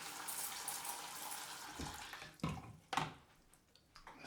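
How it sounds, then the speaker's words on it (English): Tap water running into a small shaving bowl during a head shave, a steady close splashing flow with a couple of louder gushes near the end. "So just run some water in my little bowl, filled up my spray."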